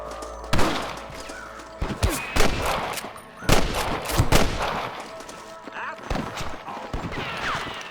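Repeated gunshots ring out in a Red Dead Redemption shootout, sharp loud cracks in irregular bursts with some scattered single shots, mixed with game ambience and faint hoofbeats.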